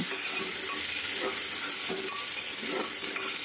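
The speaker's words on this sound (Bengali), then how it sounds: "আমি এটাকে খুব ভালো করে ভেজে নেব" Vegetables frying in oil with panch phoron, turmeric and salt for khichuri, a dense steady hiss punctuated by a few rhythmic stirring strokes, close and with no speech.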